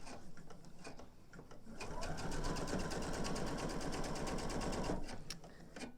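Sewing machine stitching single fold binding onto a mini quilt: a fast, even whirring run of needle strokes lasting around three seconds, close and clear, framed by quieter handling noise before and after.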